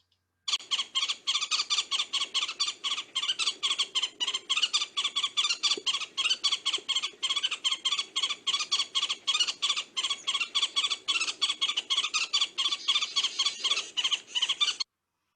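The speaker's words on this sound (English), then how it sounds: "So you just gotta love that woodpecker." Red-headed woodpecker calling in winter, a rapid, steady run of harsh squeaky notes repeated continuously for about fourteen seconds, loud and close with no other sounds.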